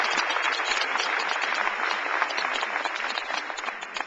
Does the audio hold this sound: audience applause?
yes